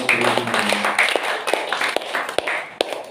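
A church congregation at a feast Mass claps briefly, with loose, uneven hand claps over a soft background of voices.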